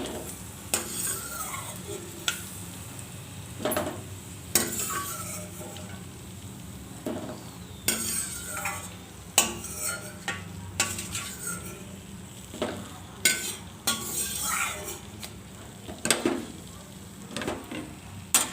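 Sapota pieces fry in a pan for sapota halwa, a steady sizzle broken by repeated scraping and clinking as a utensil stirs them, close and fairly loud with no talking.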